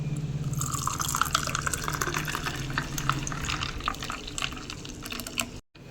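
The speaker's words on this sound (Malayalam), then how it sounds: "ഇനി നമ്മൾ നാരങ്ങ വെള്ളം ഒഴിച്ച് കൊടുക്കാം" Lemon water pours and trickles steadily into a glass over ice cubes, with small clinks and drips, then a brief dropout near the end.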